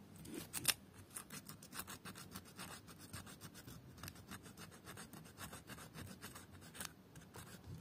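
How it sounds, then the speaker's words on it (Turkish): Sandpaper fitted in an engraving tool scrubs blackened metal clean, making quick rhythmic scratchy strokes that repeat steadily, fairly faint and close, with no speech. "Burayı da temizlemek için şöyle benim gravür aletimin içinde zımpara kağıdı."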